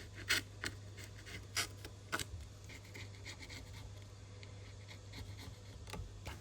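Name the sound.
scraping leftover bits off a Pixel 8 Pro with an X-Acto blade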